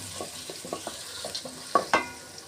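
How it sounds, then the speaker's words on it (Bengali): About a cup of chopped onion fries in hot oil, turning golden for chicken biryani, with soft stirring scrapes in a rhythmic series and two sharper clatters near the end over a faint sizzle. "এখানে পেঁয়াজটাকে একটু গোল্ডেন করে ভেজে নেব।"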